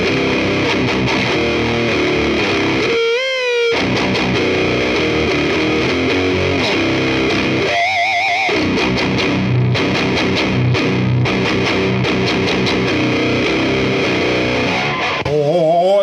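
An overdriven electric guitar plays through a Bugera 1990 tube amp, giving a loud, thick, distorted tone with sustained chords and bends. The playing breaks into brief silences twice, then picks up again near the end.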